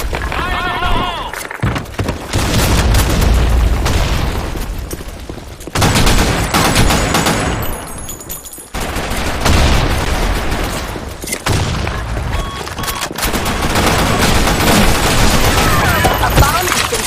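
Grenade blasts and rapid gunfire in a Counter-Strike-style match on the Sand Storm II map: dense, loud volleys of shots and explosions that continue almost without a break, with game voice callouts mixed in.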